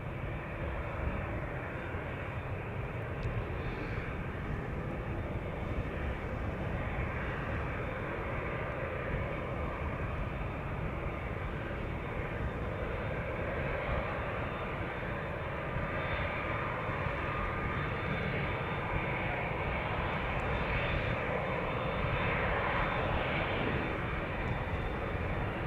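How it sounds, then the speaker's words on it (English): An Air Europa jet airliner taking off from Amsterdam Schiphol bound for Madrid gives a long, steady jet roar that holds at a moderate level and swells slightly toward the end, with no voices. "And Air Europa to Madrid, also taking off."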